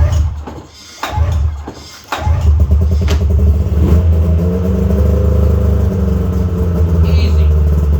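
A snowmobile engine just after a cold start sputters and catches, then settles into a loud, close, steady idle with slight rough fluctuations.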